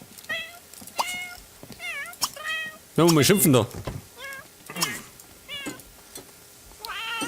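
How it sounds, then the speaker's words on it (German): A cat meows repeatedly in The Sims 3, sounding a series of short, close meows that include one louder, drawn-out yowl, with someone talking in German between them. "die Katze schreit"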